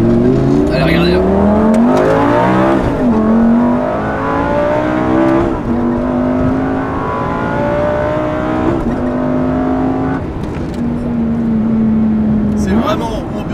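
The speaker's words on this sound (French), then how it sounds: "Vraiment ambiance voiture de course, c'est ça Lamborghini ils savent faire." A Lamborghini sports car engine revs and holds a high, rising roar for several seconds at the Castles Rally 2021, loud and close, with someone talking over it.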